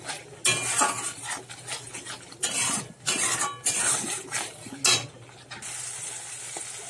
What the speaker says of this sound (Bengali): দিয়ে আমি ভালো করে এবারে মশলাটা কষিয়ে নেবো